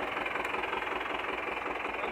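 A Valmet 86 tractor engine runs at a steady, throbbing idle-like drone, continuous and moderately loud, with no speech over it.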